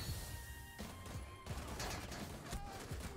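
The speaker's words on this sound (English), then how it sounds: "We're about to blow out that wall." A wall is blown out in Rainbow Six Siege, with loud, dense bursts of explosive crashing and gunfire-like cracks filling the whole moment, close and harsh, with debris rattling through it.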